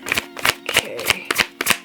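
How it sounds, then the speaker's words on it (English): A large deck of cards being riffled and shuffled by hand in about six quick, crisp bursts, close and loud. "This huge deck that's hard to shuffle."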